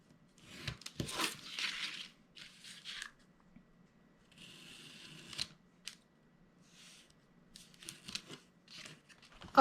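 Scissors trim the scored tabs of a paper gift box in a series of short, crisp snips and crunching paper sounds, close and fairly quiet, with pauses in between.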